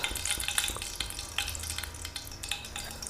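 Whole spices such as cumin and mustard seeds hit hot oil for a Budamkaya pickle tempering, crackling and sizzling loudly with sharp popping bursts scattered over a steady fry, no talking.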